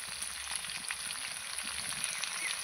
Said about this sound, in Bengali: এবার আমি এর মধ্যে সব মশলাগুলো দিয়ে দেবো